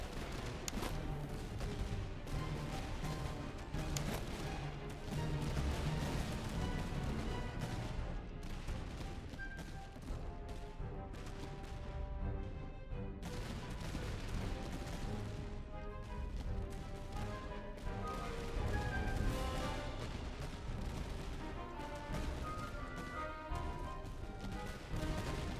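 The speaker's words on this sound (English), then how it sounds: "Oh, cannon fire." Cannon fire and other battle noise from the strategy video game Master of Command form a dense, continuous, loud barrage of booms and crackling shots that runs without a break and carries no talk.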